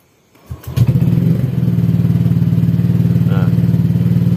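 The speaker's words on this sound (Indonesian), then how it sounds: "Tinggal kita hidupkan aja dulu motornya." A Honda Vario scooter fitted with a Juken 5 plus racing turbo and double injectors cranks with a few thumps, fires up and settles into a close, steady idle.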